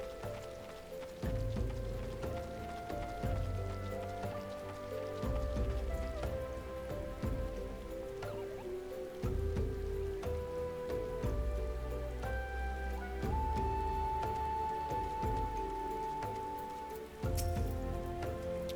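Steady rain falls in the video game Final Fantasy XIV, a continuous patter mixed beneath a prominent melodic music score throughout.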